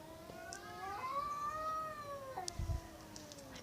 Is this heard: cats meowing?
yes